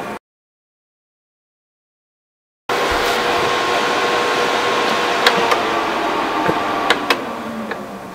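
A USB tabletop personal air cooler switches on after silence and runs with a steady fan whir and soft hum, punctuated by a few faint clicks.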